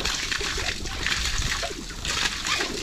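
Water gushes and splashes steadily from a hand-operated water pump outdoors, a loud, continuous, close spray with no pauses.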